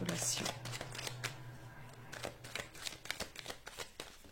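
A deck of tarot cards is cut and shuffled during a reading, giving a run of quick papery riffles and flicks with short pauses between bursts and a faint hum underneath.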